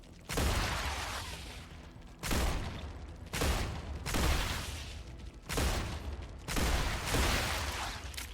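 Gunfire bursts from shooting enemies in the video game StarRupture come in several loud, close volleys of a second or two each, separated by brief gaps, with no talking.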